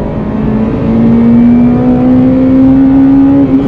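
A Honda Integra DC5 with its K20 VTEC engine, limited-slip differential and short gearbox revs hard while driving, a loud, steady engine drone rising slowly in pitch and holding near, with no talk.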